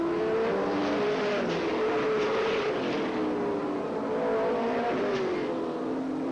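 Race cars roaring past as they complete a lap, a dense, continuous engine drone from several cars at once with shifting pitch as they pass, moderately distant.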